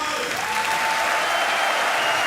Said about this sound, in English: And you can see the crowd's reaction to Timo Boll